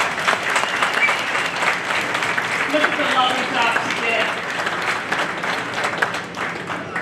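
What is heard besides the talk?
audience applause at ceremony aboard USS Wasp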